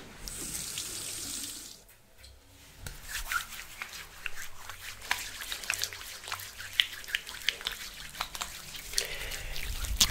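Running tap water splashes steadily while conditioner is rinsed from hair during an ASMR haircut, with a close, continuous flow broken by brief pauses and small splashes and rubbing sounds throughout.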